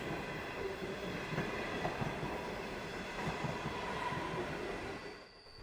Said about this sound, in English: This premium passenger train runs between Adelaide and Gregg's hometown of Brisbane.